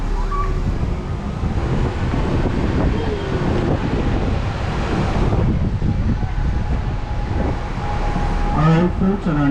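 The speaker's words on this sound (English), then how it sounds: "keep in mind we do have some pretty good gusts of wind." Strong gusts of wind buffet the microphone aboard an open-air trolley ride in Waikiki, a loud continuous roar and rumble with vehicle noise beneath and someone talking over it.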